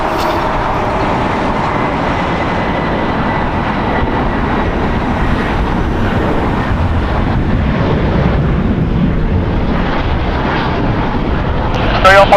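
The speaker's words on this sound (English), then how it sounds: "You can see the DHL 777 going to be lining up on 25 right, so it's going to be taxiing over 25 right" A DHL Boeing 777 taxiing toward runway 25 right at LAX fills the air with a steady, loud jet-engine roar that stays broad and constant throughout, with a brief sharper burst at the very end.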